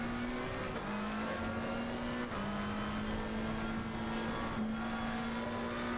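A race car engine in Le Mans Ultimate holds a steady high drone, pitch dipping briefly at a couple of shifts or corners, loud and continuous with no voices.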